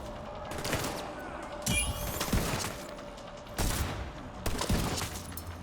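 Sniper rifle shots in the Division 2 video game, several sharp cracks with ringing tails spaced a second or two apart over a low ambient background.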